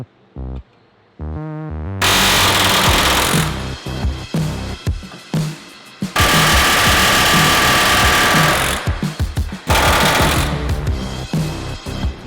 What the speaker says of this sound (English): we used the air hammer to knock these out